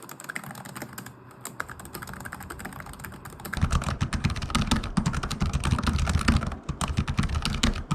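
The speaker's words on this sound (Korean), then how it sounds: "주변에서 쉽게 찾을 수 있는 키보드 소리를 한번 들려드릴 테니까요" Rapid clicking of keys on an LG Gram laptop keyboard, a steady flurry of light taps that grows louder and busier partway through.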